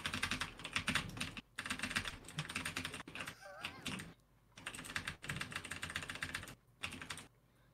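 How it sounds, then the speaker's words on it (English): Rapid clacking keystrokes from a gaming keyboard come in bursts separated by short pauses, close and fairly quiet, with a brief faint chirp in one gap. "Do you hear my gaming keyboard? I do hear it."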